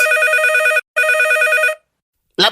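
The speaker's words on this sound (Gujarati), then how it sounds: "ફરી ફોન આવ્યો." A telephone rings in a radio comedy studio show, two loud electronic rings with a short gap between them, then silence and a brief noise at the end.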